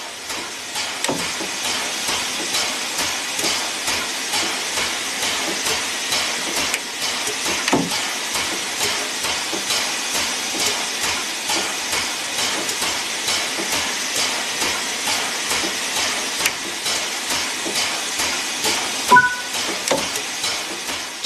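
The Flying Scotsman steam locomotive in the game Train Sim World 6 chuffs steadily as it gets moving, with loud continuous hiss and rumble and a rapid regular exhaust beat, plus a couple of sharper clanks.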